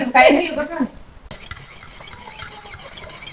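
A spoon scrapes and stirs through a thick Jaffna-style laddu mixture in a pot, a loud rasping burst at first, then quieter clinks and scrapes after a brief pause.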